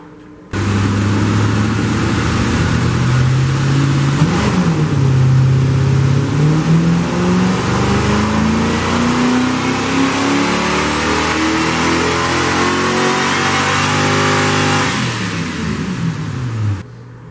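A loud car engine revs steadily upward in a long sustained pull, raw and raspy without mufflers, then cuts off abruptly.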